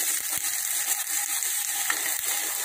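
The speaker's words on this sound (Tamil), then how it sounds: "பூண்டை போட்டு வதக்கிக்கலாம்." Garlic sautéing in a pan for a Tamil greens kadaiyal, a steady close sizzle and frying crackle with a few faint scrapes of stirring, no talk.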